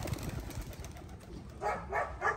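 Racing pigeons coo softly at a loft during road training, a few faint rhythmic murmuring calls over low background noise, growing slightly clearer in the last second.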